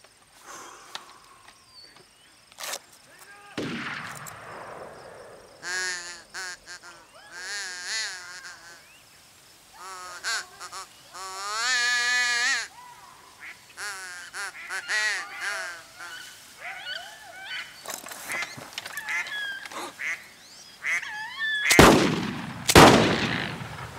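Gunshots ring out at ducks in a comedy film scene: two sharp loud blasts, one early and one near the end, with honking waterfowl calls and brief voices in between.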